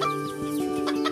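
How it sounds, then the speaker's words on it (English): Chickens cluck in a backyard animal shelter in Tel Aviv, with a few close, short clucks over a steady background hum and no talk. "Watching the chickens wander around his backyard in Tel Aviv"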